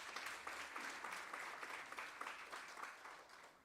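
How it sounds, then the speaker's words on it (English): Stakeholders at a skills-development roadshow in Durban give the chairperson a round of applause: a continuous wash of many hands clapping, even and sustained, heard faintly from a distance. "I would like us to give a round of applause to the chairperson for his address once more."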